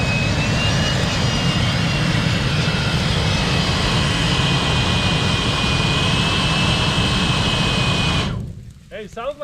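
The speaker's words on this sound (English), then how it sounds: "The blower does work really good, even with wet." Snow blower running steadily in deep snow at high elevation, a loud continuous jet-like roar that holds for about eight seconds, then cuts away abruptly to quieter ambient sound at the end.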